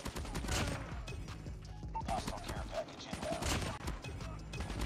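Hip-fired shots from a gold KN-44 rifle in Call of Duty Mobile, rapid cracking bursts layered with other game effects and faint chatter, dense and fairly loud throughout.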